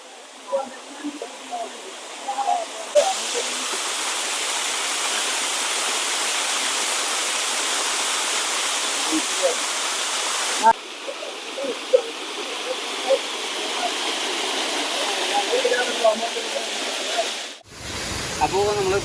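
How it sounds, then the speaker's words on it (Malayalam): A stream flowing below Paloor Kotta waterfall, with a steady broad rushing hiss of water that grows louder after a few seconds and continues close by, with scattered small knocks and a brief break near the end. "ഇവിടുന്ന് വെള്ളം ഇങ്ങനെ അരുവിയായിട്ട് പോകണ്ട്."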